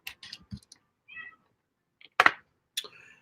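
A house cat gives several short meows spread across a quiet room, separated by pauses, along with a few faint clicks and soft rustles.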